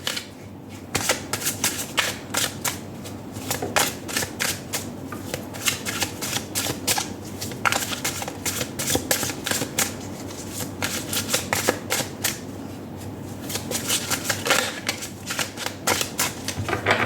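Tarot deck being shuffled by hand, a steady run of crisp riffling card flicks and snaps lasting throughout, close and fairly loud with no talking.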